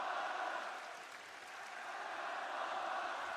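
Esports arena crowd at a Falcons versus Vitality Counter-Strike match roaring and chanting, a dense sustained wall of cheering that dips briefly and swells again.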